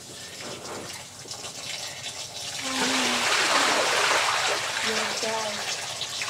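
Steady broadband water hiss of a shower running, swelling louder midway, with a person speaking briefly over the spray.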